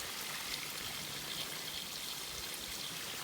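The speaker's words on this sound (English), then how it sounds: "And there's even some additional water flowing over here" Mountain stream water at Gully Pipe in Linville Gorge flows steadily, a close, even rushing and trickling wash with no voices over it.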